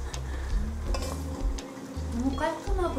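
Seasoned bean sprouts and chili peppers are tossed and stirred in a bowl with sesame salt, a close wet rustling and squishing, with a voice briefly heard near the end.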